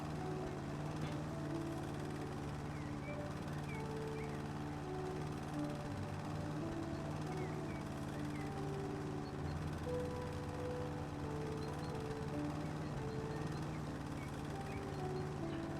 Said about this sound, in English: Mowing the grass, mowing the grass, I'm going to mow the grass.